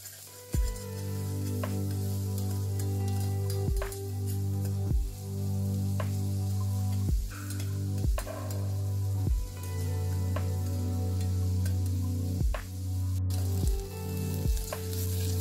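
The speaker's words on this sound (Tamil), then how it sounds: "இப்போ நம்ம இதில் வெங்காயம், கட் பண்ண வெங்காயத்தையும் நம்ம இதில் சேர்த்துட்டு கொஞ்ச நேரம் வதக்கிக்கலாம்" Chopped onions sauté in a pan with cardamom, cloves and bay leaf, sending up a steady sizzle under a low hum, broken at regular intervals by sharp knocks of a spoon against the pan.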